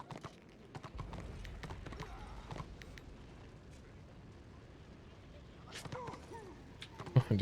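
Hooves clip-clop on a horse ridden by a melee Squig Herder in the online fantasy combat game RoR, faint irregular knocking steps under soft background game noise and a few sharper impacts near the end.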